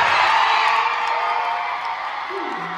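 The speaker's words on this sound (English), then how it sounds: "scream for the dancer that you love best." A dance convention crowd screams and cheers for a dancer, a dense, loud wall of high shrieks and whoops that holds steady for a few seconds before cutting off.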